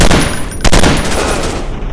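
Gunfire in a commando shooting game in a city level, a loud continuous burst of rapid shots with one sharper crack partway through.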